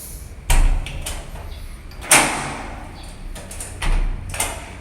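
An apartment door in a five-floor walk-up in Osaka, Japan, closes and is locked, giving several nearby thuds and clunks against room noise.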